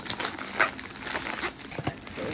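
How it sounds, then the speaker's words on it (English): Scissors cut open a mail package, with crinkling plastic and paper, small snips and rustles heard up close at a quiet level. "So I am gonna open with my scissors."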